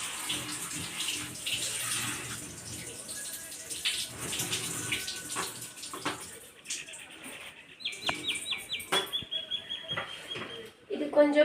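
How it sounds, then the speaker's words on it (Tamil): Red vine spinach leaves being washed in water bring splashing and trickling, with sloshing and the patter of running water, interrupted by a few short high-pitched squeaks toward the end. "இந்த பசலைக்கீரையை நம்ம கழுவி சுத்தம் பண்ணிடலாம்."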